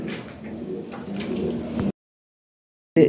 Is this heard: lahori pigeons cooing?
yes